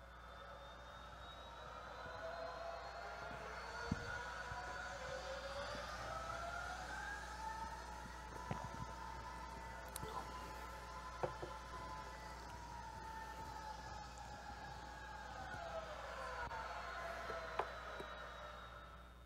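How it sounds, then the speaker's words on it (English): Semi-generated GE95 jet engine sample built for a flight simulator: a steady, sustained whine whose tones slowly rise and fall, with a few sharp clicks along the way and no talking. "this is sound of the GE95 engine, and it's actually quite good"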